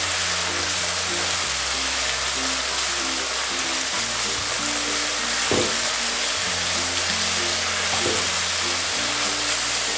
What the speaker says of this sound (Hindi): ये देखिए अदरक लहसुन का पेस्ट हम डाल दिए और इसे भी डालकर हम अच्छी तरह से मिलाएंगे